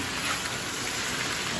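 Carrots sizzle steadily in a hot pan while being sautéed for lomi, a soft continuous frying hiss with a faint stirring tap near the end.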